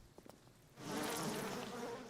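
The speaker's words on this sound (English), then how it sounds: "You got the bees." Bees swarming in the video game BioShock Remastered, a dense, steady buzzing hum that swells in abruptly after a few faint taps and holds loud and close to the end.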